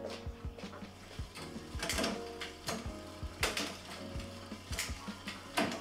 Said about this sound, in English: That shifts smoothly up and down both the gears.